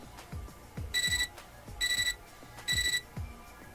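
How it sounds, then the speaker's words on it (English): Electronic computer terminal beeping in the video game Fate/EXTRA, in three evenly spaced bursts of rapid tones, each burst a quick chirping run, over faint clicks and low background noise. "Our mutual silence is interrupted by my computer terminal's beeping."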